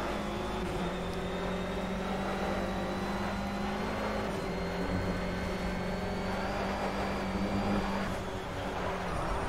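Racing car in the video game Project CARS, engine roaring loudly and continuously with steady whine and shifting revs through a corner, no voices over it.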